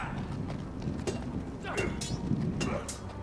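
Horse hooves clip-clop in a steady walking rhythm in the Game of Thrones Telltale video game, moderately close and partly under a voice and background sound.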